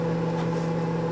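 A microwave oven runs while heating soft plastic for hand pouring, giving a steady, close electrical hum with a constant low drone and no break in level.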